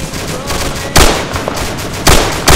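Video game gunfire in a military shooter, a few loud sharp shots at irregular intervals over background rumble.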